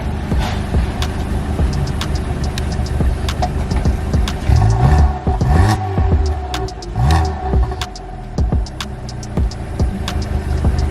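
Engine of a used car idling and revving, a steady mechanical rumble with several throttle blips swelling through the middle, close up with no talk.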